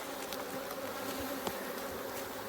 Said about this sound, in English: These bees are mad. Look how they're flying around me.